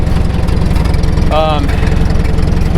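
A 70-year-old International T9 crawler bulldozer with a four-cylinder engine runs at a low, steady idle, a loud continuous rumble with rhythmic pulsing and a brief higher whine partway through.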